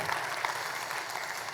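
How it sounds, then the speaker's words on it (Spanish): Congregation at a church service clapping together, a brief, dense burst of applause from many hands, steady and moderately loud from start to finish. "Dale ese aplauso"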